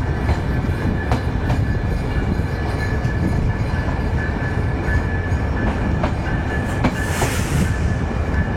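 The Rupsi Bangla Express rolls into Kashiani Junction station with a loud, continuous rumble of wheels on rails, steady clickety-clack beats and a brief high squeal near the end, heard from on board.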